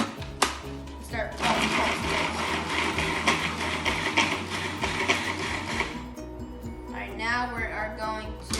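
A food processor chops onion and garlic with a loud whirring, buzzing motor that starts after a brief click, runs steadily for several seconds, then stops. A voice speaks briefly at the end.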